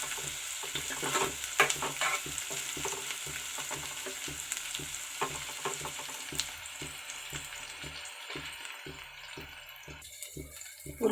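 Onions fry in oil in a pan for bitter gourd pulusu, stirred with a spatula in quick, regular strokes that scrape rhythmically over a constant soft sizzle, close and fairly quiet.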